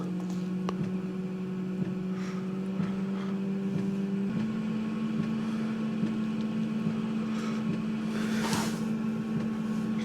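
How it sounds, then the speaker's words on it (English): VW Caddy Maxi heater pump starting up, a faint, steady electric hum whose pitch steps up partway through as it ramps, with soft background rustles and a brief noise burst near the end. "We can hear the pump."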